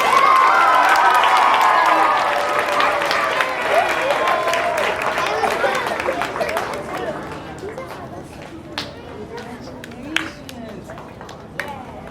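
An audience claps and cheers at a school student government swearing-in ceremony. The applause starts loud and full, then thins out into scattered claps and crowd chatter.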